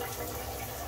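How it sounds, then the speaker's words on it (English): A weak cold shower trickles with low pressure, giving a soft, steady hiss of running water for about a second with no voices. "the only thing with my shower, if the water's cold, the pressure isn't very strong"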